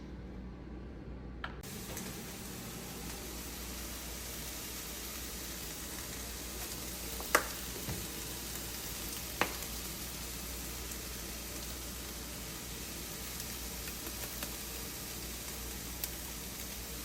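Meat searing in a frying pan gives a faint, steady sizzling hiss with a few small pops scattered through it, heard alone without talking.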